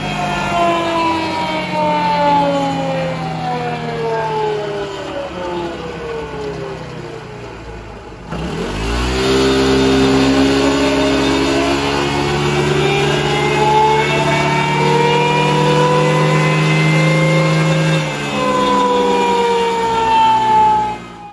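Honda ADV 160 scooter with an upgraded CVT revving on a test run, a loud continuous engine drone whose pitch sweeps up and down repeatedly, briefly dipping near the middle before climbing again, with no talk.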